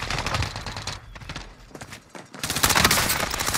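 Dense battle royale gunfire: rapid bursts of automatic shots rattle loudly through most of the stretch, easing off briefly in the middle before a heavy, sustained volley returns.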